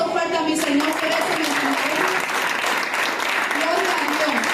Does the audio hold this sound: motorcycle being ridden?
no